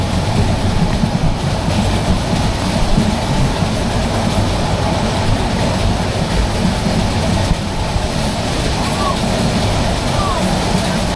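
The Chattogram Mail passenger train rumbles along steadily at night with a dense low roar and faint rhythmic clatter, continuous and loud throughout, with occasional voices mixed in.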